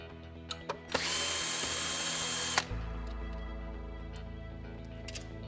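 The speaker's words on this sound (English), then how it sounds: "we'll need to remove 2 screws from the back, mount on to the battery tray" A power drill backs out screws holding a mount to the battery tray of an MGI Navigator quad golf trolley, with a few clicks, then a sustained loud whir stopping abruptly, then a low steady hum.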